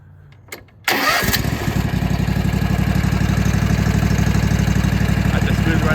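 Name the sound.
Kawasaki FR651V twin engine on Toro TimeCutter zero-turn mower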